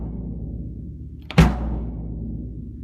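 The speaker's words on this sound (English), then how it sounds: "I've been using this 70s Japanese era bass drum, and it sounds something like this." A single 1970s Japanese-era bass drum with two heads, struck once: a loud, deep, bouncy thump that rings out briefly over a low background hum.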